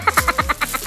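A frog croaks near a stone house in La Union, a rapid series of about eight loud, close, throaty pulses.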